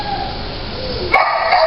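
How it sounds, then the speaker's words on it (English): Dogs at an animal shelter bark and yip in short bursts, a sharper cluster of barks rising partway through over a steady background hum. "And we do have a few dogs here on the back row also."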